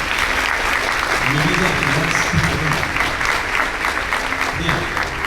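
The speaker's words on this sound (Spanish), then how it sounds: "Un aplauso para Karen, por favor." An audience at a Payoneer business forum in Buenos Aires applauds a speaker, steady, dense clapping that fills the room and holds for several seconds, with faint crowd murmur beneath.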